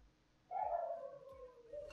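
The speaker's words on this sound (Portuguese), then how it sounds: "O cachorro do vizinho aqui é uma desgraça" A neighbour's dog gives one long whining yelp that trails off, heard at moderate distance behind a quiet room during a CS:GO case-opening session.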